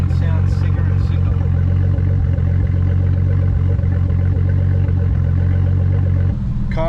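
A Nissan Skyline R32 GTS-T engine idles roughly, with a steady low rumble broken by faint uneven misses and clatter throughout, ending with a short shift in sound.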